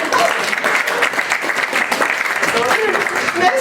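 Audience applause at a stage show, dense and fairly loud clapping sustained across the whole stretch, with a few voices audible among the crowd.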